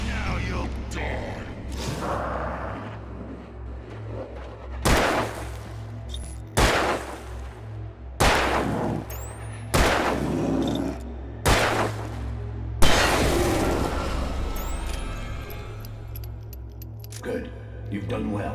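Gunfire in Alan Wake Remastered: about seven loud, sharp shots at irregular intervals, each cracking over a steady low game ambience, with no talking.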